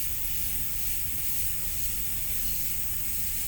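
A spray gun hisses paint onto a Cutlass body during a repair, a steady, even broadband hiss that runs unbroken and fairly close, with no talking.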